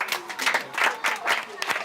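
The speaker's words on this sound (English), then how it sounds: "Give him a round of applause." A crowd claps in a round of applause at a chess exhibition, short bursts of clapping mixed with voices talking over it.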